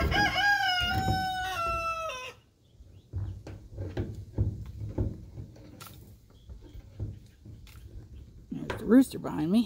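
A rooster crows loudly nearby in a long, wavering call at the start, then a quieter scattered mix of clucks and small knocks follows, with a second crow-like call rising near the end.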